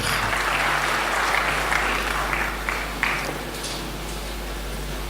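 A church congregation applauds steadily and fairly loudly during a worship service, a dense continuous clapping that eases slightly toward the end with no speech over it.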